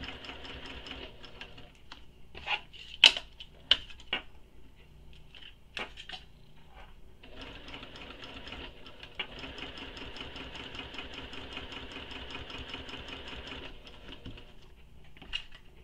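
A home sewing machine stitches around a mini backpack panel, opening with short bursts and clicks of back-stitching, then settling into a long steady whirring run before stopping with a final tap.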